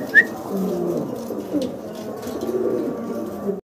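A domestic pigeon cooing steadily and close, a low rolling murmur running throughout with a brief sharp chirp near the start and light bird sounds in the background.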